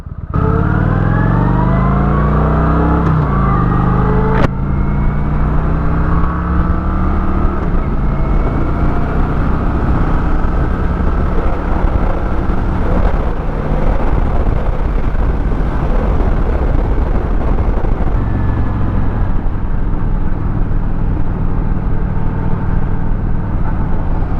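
A loud Kawasaki Vulcan 900 Classic cruiser motorcycle engine rumbles steadily while riding, with a brief rev early on, then a constant throaty drone throughout.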